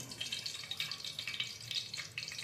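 Greens dropped into hot oil for tomato rice make a soft, hissing sizzle, fairly quiet and continuous with slight pulsing, and no voices over it.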